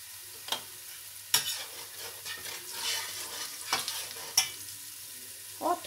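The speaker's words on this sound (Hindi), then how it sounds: "अब इनको भूनेंगे।" Ginger garlic paste and mutton frying in a pan for bhuna gosht, a soft steady sizzle broken by several sharp clinks and scrapes of a spoon stirring, close and fairly quiet with no talk.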